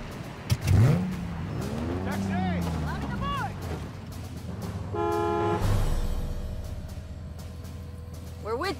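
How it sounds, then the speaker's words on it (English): Vehicle delivery arriving in Halo Infinite: a heavy thud and engine rumble with sweeping whines and chirps, then a low drone with tonal hums, over a steady background. "Vehicle delivery en route."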